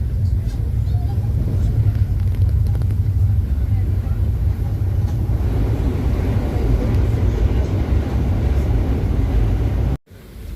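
The Tejas Express train rumbles along the tracks between Dadar and Ratnagiri, skipping Ukshi station, with a heavy, continuous low roar and rattling, loud and close, ending in a brief drop.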